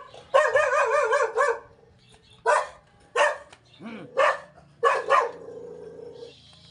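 A dog barks close by in a residential neighborhood, giving a burst of rapid, wavering barks and then several separate loud barks with short gaps between them.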